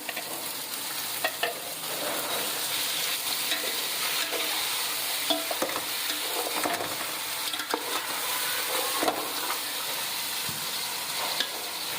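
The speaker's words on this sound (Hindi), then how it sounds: "कीमे को अच्छी तरीके से इसके अंदर फ्राई करना है" Minced meat sizzles steadily in a hot pan for keema with capsicum, with occasional scraping and clicking as it is stirred, close up and continuous.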